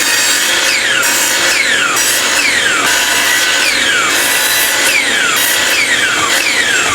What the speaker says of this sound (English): now I'm going to use the miter saw to cut 8 of these strips that are 16 inches long